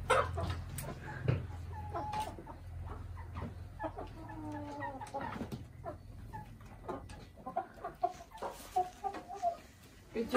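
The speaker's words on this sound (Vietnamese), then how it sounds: "Nhà chú là nuôi nhiều gà ấy nhỉ?" Chickens cluck on a rural Vietnamese farm, a scattering of short calls near and farther off amid ambient noise, with people talking at intervals around them.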